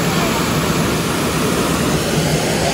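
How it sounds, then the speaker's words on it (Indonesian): River water gurgles and rushes steadily beneath a wooden bridge, a loud, continuous wash of noise with no pauses. "pemandangannya adalah sungai dengan suara gemericik"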